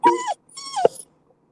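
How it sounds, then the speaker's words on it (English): A dog gives two close, drawn-out whimpers, each rising and then sliding down in a whiny moan, separated by a short gap, then goes quiet. "It's the dog."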